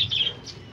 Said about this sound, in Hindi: बजरी जो तोते हैं उन्हें भी दाना डालो